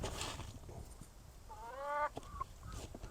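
Poultry calls from a small flock, with a drawn-out honking cry in the middle and scattered clucks over low outdoor rustling, moderately close.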